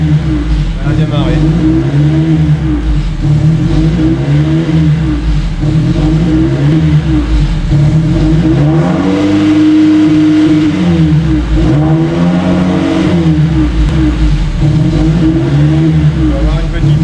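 A Honda Civic EP1 track car engine runs loud and close after starting, holding a rough, throbbing idle. Midway it swells through a rising then falling rev before settling back.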